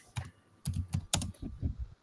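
Computer keyboard typed in short clustered bursts of clicky keystrokes, close and fairly quiet, with no talking.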